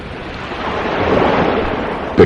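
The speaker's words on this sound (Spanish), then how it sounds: "escuchó con toda nitidez el sonido del mar, el murmullo de las olas y el hervor de las resacas sobre la playa" Sea waves and surf wash over a beach in a steady, swelling rumble of breaking water that builds slightly, with a brief sharper burst at the very end.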